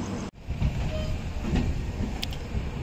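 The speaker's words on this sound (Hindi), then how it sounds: "ट्रेन पहुँची है भटकल इस वक्त" A train pulls into Bhatkal station at night, a steady rumbling rail roar with clattering carriages and faint metallic knocks. One sharp break cuts in near the start, and no one speaks.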